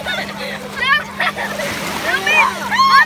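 Splashing water as a person is pushed in at a beach, sloshing bursts spread through the clip under excited voices and children's speech nearby.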